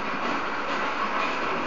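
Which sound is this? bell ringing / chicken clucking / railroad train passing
railroad train passing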